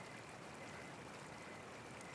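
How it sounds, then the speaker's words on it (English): A small babbling brook flows steadily with a soft, continuous trickling wash, faint and even, with no voices. "She's a tiny river that makes happy sounds."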